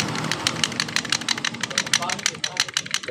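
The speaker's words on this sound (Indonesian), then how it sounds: "Ketika ini kocak akan menimbulkan suara klotok di bagian RPM bawah, seperti ini bunyinya." A Honda Genio scooter idling at low RPM with a loose valve tappet: a rapid, regular ticking clatter rides over a low engine hum, close by and steady.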